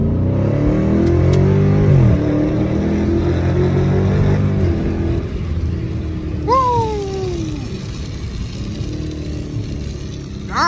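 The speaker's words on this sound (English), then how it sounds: "downshift so crazy. That first gear so brutal." Loud engine of a wrecked Dodge SRT 392 revving hard as it downshifts into first gear, a rising, falling roar with sharp blips that continues loudly to the end.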